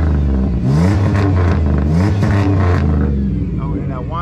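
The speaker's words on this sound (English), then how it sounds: "I'm gonna go and give y'all some revs." A powerful supercharged engine in a 2004 Chevy Impala SS revs up repeatedly, rising and falling in pitch with a whining edge, loud and close, with no talk.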